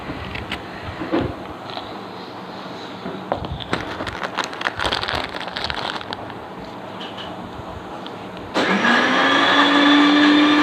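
A mixer grinder whips cream with a steady motor drone that grows louder and higher toward the end, heard from nearby with no talking.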